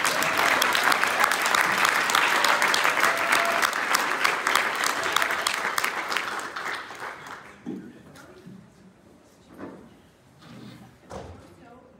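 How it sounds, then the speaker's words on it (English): Audience applause for a student panel at a summer institute, dense and loud for about seven seconds before thinning to scattered claps and faint voices. "So one last round of applause for our panel."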